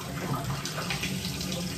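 Water from a tap runs in a steady, close hiss into a basin or shower, continuous and fairly loud with no voices.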